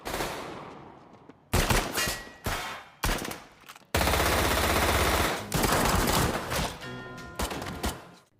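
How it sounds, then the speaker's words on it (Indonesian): Bursts of gunfire from a film shootout, loud and close, with repeated rapid volleys separated by short gaps and one long sustained barrage, no talking. "Kemudian aksi baku tembak pun terjadi."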